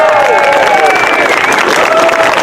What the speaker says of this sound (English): how about a round of applause? Let's hear it.